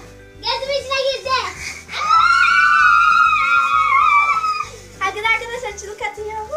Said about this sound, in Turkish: arkadaşlar çığlık atıyor.